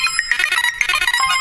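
A phone rings as a sound effect in a promo for a Jeep Cherokee XJ talk show's live call-in segment: a busy, continuous electronic ringtone warbling for about a second and a half, with no talking.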